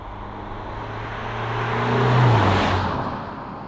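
A 2023 facelift Alfa Romeo Giulia, whose engine is said to sound rather diesel-like, hums steadily while driving through corners, swelling to a louder peak midway before easing off again.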